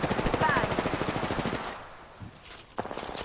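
Rapid automatic gunfire in a video game rattles off in a fast, steady burst for over a second, then a few scattered single shots follow after a brief pause.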